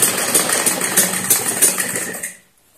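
Sewing machine stitching a salwar, humming in a steady fast run of close, loud stitches for over two seconds before slowing and stopping into near silence.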